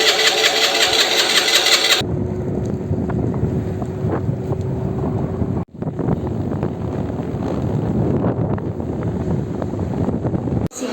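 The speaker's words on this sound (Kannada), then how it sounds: "ಬಟ್ ಗಾಡಿ ಆನ್ ಆಗ್ತಿಲ್ಲ." A motorbike's engine is cranked but fails to start, with a brief harsh burst of starter noise, then a low uneven rumble broken by short dropouts, close to the microphone.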